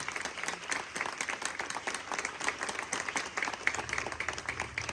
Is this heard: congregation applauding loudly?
yes